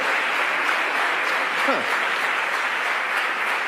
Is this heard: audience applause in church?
yes